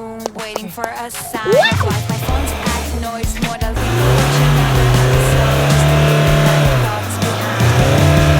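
A manual car driven by a learner revs hard as the accelerator is pressed too far during a clutch start, with a clutch being burned. The engine roars up and holds a loud, strained, steady drone, close by, with no voices.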